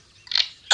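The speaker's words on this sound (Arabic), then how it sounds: "أضغط على مفتاح الكنترول ومفتاح المسافة" Control and Space keys pressed on an external keyboard connected to a phone, two quick, close plastic key clicks a fraction of a second apart, alone and clear.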